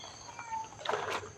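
A cat at a Thai temple gives a short, soft meow, fairly close and alone, over quiet background sound.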